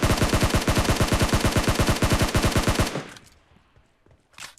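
Rapid automatic gunfire in PUBG Mobile in a fast, even rhythm for about three seconds, then it stops, leaving a quiet pause and a single faint later burst.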